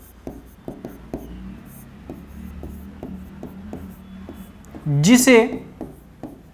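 A pen scratches across a writing surface in a classroom lesson, a series of short, faint strokes repeating at an even pace, with a voice speaking briefly near the end.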